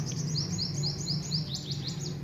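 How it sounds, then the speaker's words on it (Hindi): Small birds chirp in a quick, repeated series of bright tweets over a steady low background hum, with no talking, near a home kitchen. "चिड़ियाँ बहुत बोलती हैं"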